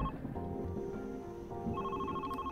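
Telephone ringing in The Red Strings Club video game, repeated electronic ring tones over a steady low background.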